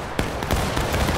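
A volley of rifle fire in the Civil War video game War of Rights at School House Ridge: a few sharp, overlapping musket cracks in quick succession, loud and close, over a dense rumbling battle din.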